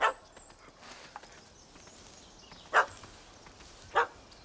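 Three short yelping dog barks from a puppy in The Witcher 3, spaced apart over a quiet game ambience, the first at the very start and two more a little later.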